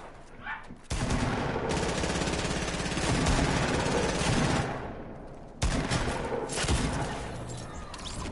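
AK rifle gunfire rattles loud and close in the Fortnite video game: a sustained automatic burst lasting several seconds, a brief pause, then another heavy stream of shots.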